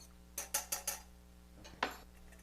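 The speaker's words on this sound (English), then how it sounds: "And whisk it together until it's smooth and the oil isn't separated" Four quick metal-on-bowl whisk strokes followed by a short pause and two more, crisp and close, as oil and sea salt are whisked into a salad dressing.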